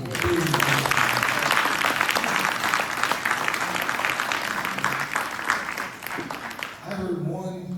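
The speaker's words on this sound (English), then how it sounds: "Let's give these ladies a big round of applause." An audience at a ROTC Hall of Fame event gives a sustained round of applause that tapers off, with a voice coming in at the end.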